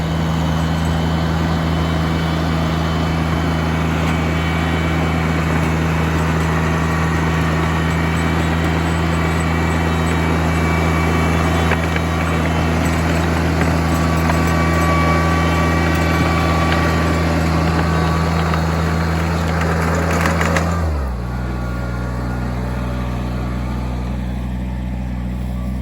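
A tractor engine drones steadily and loudly up close as the machine drives into soft, wet tilled mud, with a low, constant rumble that drops in pitch near the end as it bogs.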